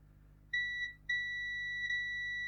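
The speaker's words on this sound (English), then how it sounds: "Let's check if we've got any bridges on the multimeter." A multimeter on continuity mode beeps twice while probing a faulty X-Pro console circuit board for solder bridges: a short steady tone, a brief gap, then a longer sustained tone, clear and close with no talking.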